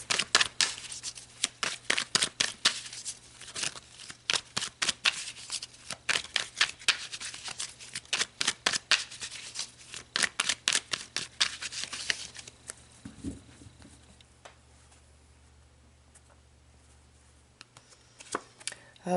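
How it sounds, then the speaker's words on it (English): Tarot cards being shuffled, with rapid bursts of crisp riffling and snapping repeated for about twelve seconds, then slowing to a few scattered flicks and a soft thump, close and fairly loud with no talking. "let's pull some more cards."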